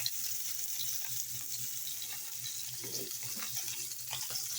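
Garlic frying in a pan for a pork ginisa makes a soft, continuous sizzle with a low steady hum beneath and occasional faint stirring sounds.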